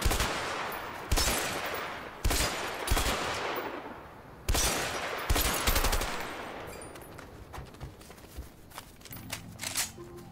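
Bursts of MP5 submachine gun fire in the A Way Out video game, several loud rapid volleys with short pauses between them, fading into quieter clatter and shuffling toward the end.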